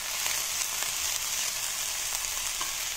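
Baby corn is stirred into a spice masala frying in a pan, producing a loud, continuous bright sizzle with faint stirring movements underneath and no talk.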